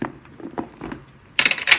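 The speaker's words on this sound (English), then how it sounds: "and I'll just take out the chains." A metal chain strap from a beige Chanel Jumbo Classic flap bag is pulled out, giving a few soft close clinks followed by a louder, bright jangling rattle of chain links at the end.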